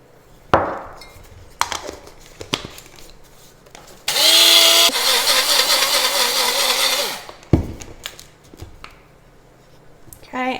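A kitchen blender whirs for about three seconds, blending a homemade seasoning salt mix of dried herbs and celery salt, loud and steady between quieter clatter and handling noises.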